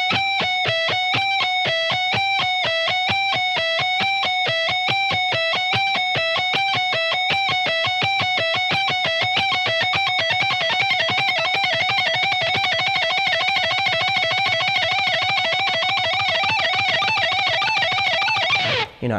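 Electric guitar picked fast in a steady, even stream of notes with accented downstrokes, a rapid regular pulse of repeated tones that stays loud and close throughout, with no talking.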